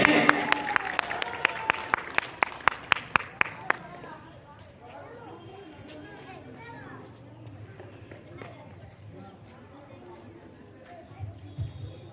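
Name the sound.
loud applause welcoming a teacher to the stage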